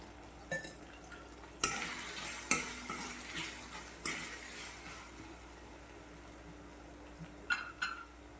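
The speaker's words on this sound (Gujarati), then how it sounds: "ધીમા તાપે આપણે આને શેકવાનું છે" A spoon scrapes and taps against a pan of tomatoes roasting on low heat in a few sharp strokes over a quiet, steady sizzle, with longer pauses between stirs.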